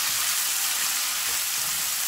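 Crispy pork with oyster sauce simmering in a pan, a dense steady hiss of frying that holds at an even, fairly loud level throughout, close with no voices.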